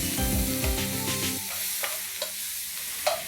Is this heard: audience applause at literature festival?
no